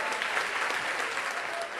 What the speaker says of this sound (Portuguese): Aplauda Jesus em pé.